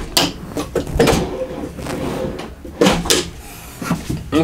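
Drawers opening and closing inside a 2018 Adventurer Eagle Cap 1165 truck camper, a series of close wooden slides and knocks in uneven bursts with brief pauses between them.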